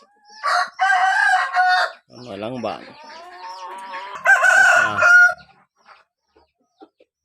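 Chickens cluck and a rooster crows nearby, with a short spoken voice in between and a few faint clicks at the end.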